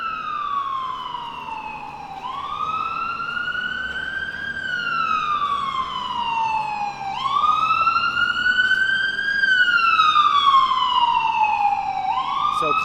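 Ambulance sirens wail in repeated slow rising and falling sweeps, loud and close, with traffic rumble underneath.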